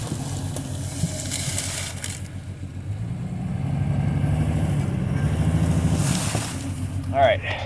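An old Jeep, free after sitting for 15 years with flat tires, runs rough with a low, uneven drone that swells in the middle, while someone talks over it.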